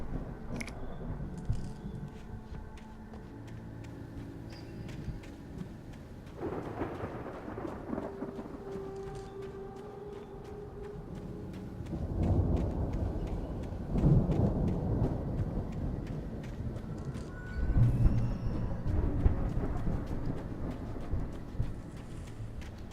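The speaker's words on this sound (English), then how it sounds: "The storm raged on" Thunderstorm in the video game Alan Wake at the Anderson farm, with steady rain hiss and deep rolling thunder swelling in several long waves that grow louder toward the end.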